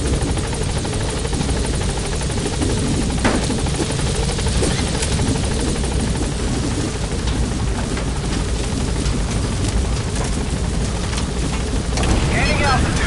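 A helicopter in Metal Gear Solid 5 drones loudly and continuously as it gains altitude, its dense rotor roar steady and close throughout the passage.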